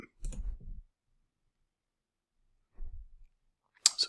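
A computer mouse clicking on search results: a few short, quiet clicks spaced apart against near silence, ending with a sharper, brighter click.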